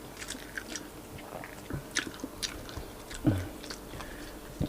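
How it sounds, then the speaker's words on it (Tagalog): Chewing and biting into an egg at a Filipino breakfast, close to the mic, with soft irregular bites and a few crunchier chews spread through quiet moments. "Kainin mo yung itlog mo."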